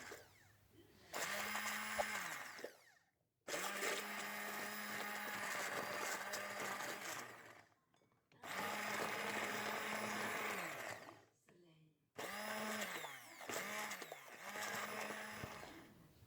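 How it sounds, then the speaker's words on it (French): A hand blender whirs loudly and close while mixing eggs with orange, running in four long bursts separated by short pauses, its motor pitch dipping under load as it blends. "Je mixe à l'aide d'un mixeur à bras ou d'un robot."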